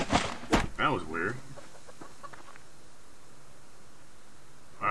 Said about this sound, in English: I heard the chicken.